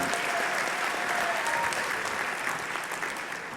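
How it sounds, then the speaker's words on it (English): A college convocation audience gives sustained, even applause for Interior Decorating graduates. The dense clapping from a large crowd tapers slightly at the end. "a round of applause for graduates from the Interior Decorating program"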